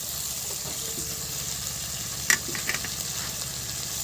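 Spice paste sizzling in oil for prawn malaikari, a steady soft crackle throughout, broken by a sharp clink of a spoon near the middle.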